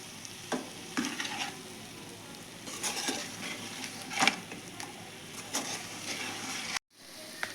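Spicy fish fries in a pan with a soft continuous sizzle, punctuated by several scraping stirs and light utensil clicks, close and moderate, ending in a sudden brief drop.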